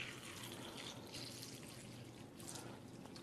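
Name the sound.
tap water poured over Nature's Sweet tomatoes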